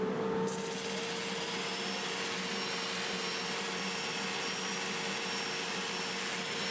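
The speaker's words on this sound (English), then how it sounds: "So I'm going to go ahead and finish sanding." A wood lathe's steady whirring motor drone with an abrasive rubbing hiss of 80-grit sandpaper on a wooden bowl turning in reverse, continuous and close, no talking.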